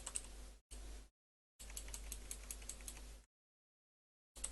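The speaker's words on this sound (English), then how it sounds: "Sorry, I'm typing." Bursts of rapid key clicks from a computer keyboard, close and fairly quiet, with silent gaps between the runs of typing.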